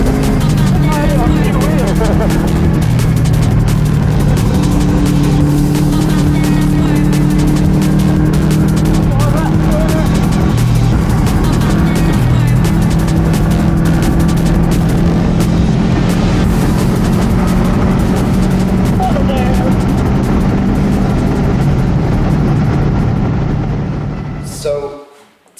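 A rusty Subaru Impreza lapping the Nurburgring with its back windows down, giving a loud, steady engine drone heavy with wind and road roar that holds almost unbroken before cutting off at the end.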